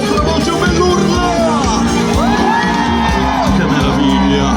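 Concert crowd cheering, whooping and yelling loudly and continuously, with individual high shouts rising above the dense roar, close and sustained throughout.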